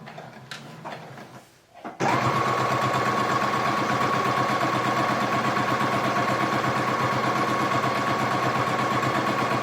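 Sewing machine stitching a rice-filled fabric heating pad, starting after a brief pause with some handling noise and then running as a fast, steady, close mechanical rattle without a break.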